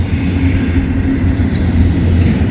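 Freight train I-141 rumbles past close by, a loud, continuous roar of heavy rolling wheels and rail noise with no break or voices.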